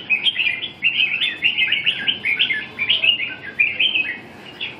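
A red-whiskered bulbul sings loudly and close by, pouring out repeated bright, warbling phrases in quick bursts with only short pauses between them.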